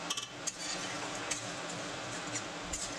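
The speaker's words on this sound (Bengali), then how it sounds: "জল দেওয়ার পর এবার নেড়ে চেড়ে দিচ্ছি।" Prawn and bottle gourd curry, Bengali style, is stirred in a pot just after water goes in: a few light utensil clinks and soft scraping over a steady background hiss, close by and without speech.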